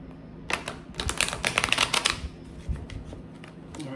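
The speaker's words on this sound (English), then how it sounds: "we'll just shuffle one more time" A deck of cards being riffle-shuffled close by, a rapid flurry of crisp flapping clicks with a few lighter taps before and after.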